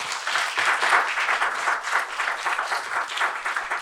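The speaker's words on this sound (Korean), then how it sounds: "박수 크게 한번 쳐주시면 어떨까요?" Audience applause for Professor Jeong Myung-ho at a Korean academic lecture event, a steady, dense round of clapping from a seated crowd, fairly close and even throughout.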